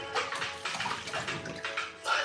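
Water draining and splashing off cassava being washed by hand for fufu, a steady close wet rush with brief swishes, no talking.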